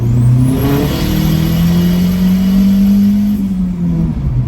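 A Dodge Dakota pickup with a swapped SRT4 turbo engine accelerates hard in second gear, its loud engine note climbing steadily in pitch over several seconds, recorded from inside the cab, with a faint turbo whine above it.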